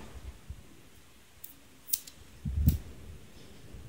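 Scissors snip crochet yarn while a rectangular rug with African flower motifs is being finished, giving a few faint, quiet clicks followed by one short, slightly louder cut.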